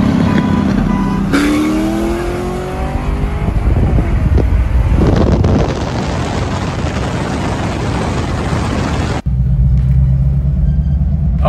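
An American performance car running hard on a dyno at an import face-off event, its engine roaring loud and sustained through rising revs before cutting abruptly to a lower idle rumble.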